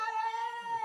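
A cat lets out one drawn-out, whining meow close by, steady and tonal for just under a second, with no other sounds around it.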